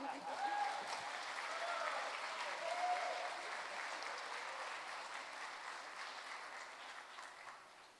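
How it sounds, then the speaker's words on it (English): An audience at a city education awards ceremony gives sustained applause, a dense wash of clapping at moderate distance that slowly tapers off over several seconds. "Give him one more big round of applause."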